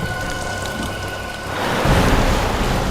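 Heavy rain pours down in a steady, dense hiss that swells louder partway through, with no voices over it.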